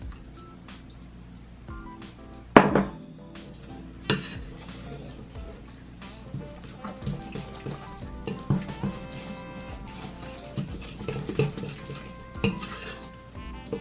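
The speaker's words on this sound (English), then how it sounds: "now that it's pretty mixed up here, I'm going to add the 1/2 cup of milk" Half a cup of milk poured into keto spaetzle dough and worked in with a whisk, giving steady close scraping and stirring against the bowl with scattered clinks and one sharp knock early on.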